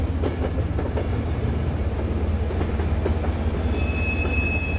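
Steady rolling rumble of a train in the zombie train game Zompiercer, with a thin high wheel squeal rising on the rails toward the end, loud and continuous with no talk.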